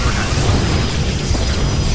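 Loud, sustained explosive rumble as a Protoss nexus is destroyed in StarCraft II, a dense, continuous boom with no pauses throughout.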